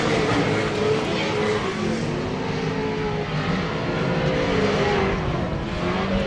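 Pro 2 off-road race trucks roar past at Glen Helen Raceway in a 2021 short course race, engines droning loud and steady without a break, with crowd-like wash underneath.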